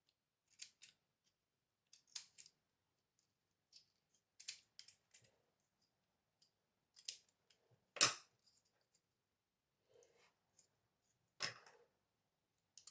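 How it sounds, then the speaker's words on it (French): Scissors snip through material in a series of short, crisp cuts, some isolated and some in quick pairs, spaced irregularly across a quiet room with one louder snip near the middle. "Donc, on va essayer de découper."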